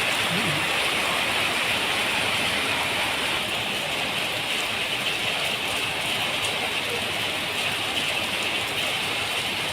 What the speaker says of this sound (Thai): นั่งรอฝนหยุดนะครับ